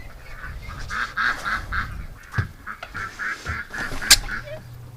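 Ducks quack repeatedly outdoors in light spitting rain, a steady chorus of nasal calls at moderate distance, with one sharp louder call near the end.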